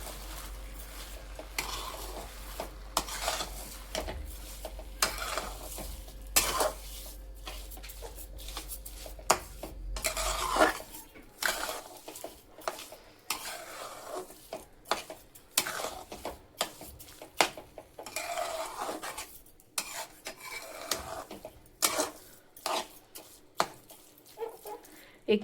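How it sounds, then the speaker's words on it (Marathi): Carrot halwa cooking in a pan as sugar is stirred in, with repeated scraping and tapping strokes of a spoon against the pan in an uneven rhythm, close and fairly quiet, alone. "साखर व्यवस्थित मिक्स करून घेऊया"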